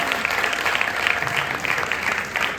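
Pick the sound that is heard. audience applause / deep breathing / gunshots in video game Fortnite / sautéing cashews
audience applause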